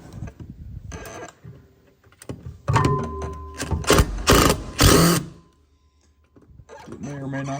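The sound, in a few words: removing Phillips head screws on a 1995 SeaDoo Speedster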